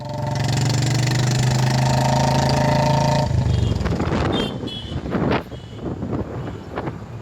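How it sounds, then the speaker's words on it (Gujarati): A Bullet motorcycle engine runs loud and close with a steady low throb, then gives way to gusty wind buffeting and road rumble as it rides off. "आप लोगों को बुलेट का आवाज़ भी सुना दिया है मैंने"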